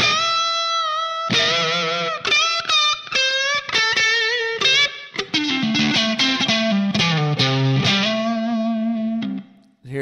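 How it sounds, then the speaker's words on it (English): Electric guitar through a Line 6 Pod HD500 modelling a bright Park 75 Brit amp with a boost effect, playing crunchy overdriven chords and single notes in quick phrases, loud and up close, ending with a brief fade. "It just sounds like you crank the gain up on your amp."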